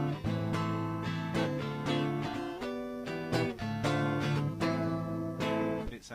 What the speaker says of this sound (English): obviously I'm playing my Telecaster here